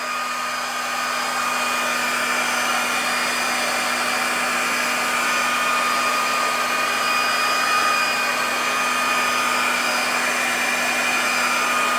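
A heat gun warming a plastic piece for a Williams pinball playfield gives off a constant, close airflow roar with a steady motor hum underneath, uninterrupted and with no speech.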